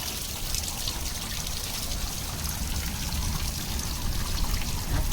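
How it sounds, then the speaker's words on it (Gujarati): Heavy, steady rain pours outdoors while wind has died down, with water trickling and splashing in a dense, even wash of sound that swells slightly toward the end, and no talking. "વરસાદ પણ સારો પડી રહ્યો છે"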